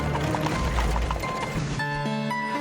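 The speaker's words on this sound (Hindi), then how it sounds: "तभी तेज गति से दौड़ता हुआ एक घोड़ा आया और उससे बहुत आगे निकल गया" Hooves pound in a fast gallop as a horse races by in an animated story, a loud rhythmic clatter that fades after a moment into a sustained tonal background.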